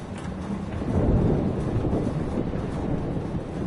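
A thunderstorm with steady heavy rain in Life is Strange, a dense continuous roar of downpour and low rumbling thunder swelling slightly, with no voices over it.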